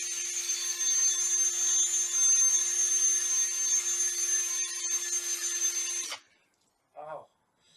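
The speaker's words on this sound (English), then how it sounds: "we're going to do a lot of buffing on this" A power buffer runs on a car's fabric top after wetsanding, a loud, steady mechanical whine for about six seconds that then cuts off, followed by a brief voice.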